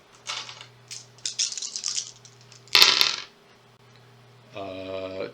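Five dice rolled for an attack in a Shadows of Brimstone board game, heard as a loud clattering burst of dice tumbling onto a tabletop, preceded by scattered clicks and handling sounds.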